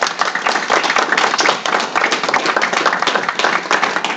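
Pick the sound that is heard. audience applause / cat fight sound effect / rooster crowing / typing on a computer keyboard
audience applause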